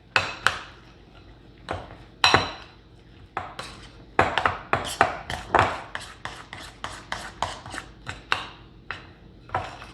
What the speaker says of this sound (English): I'm gonna touch it up with the spoon. Just to make sure everything is mixed well.